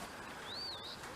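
A single bird call rises and falls once, faint against steady background hiss, from one of several pairs of Benson pigeons kept in a 4x4 hutch with a 4x8 run.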